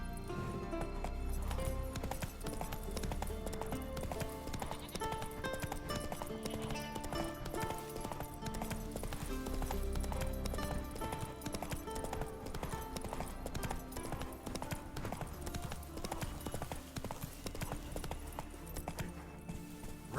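Geralt's horse Roach gallops in The Witcher 3 with rhythmic hoofbeats running under a swelling orchestral music score throughout.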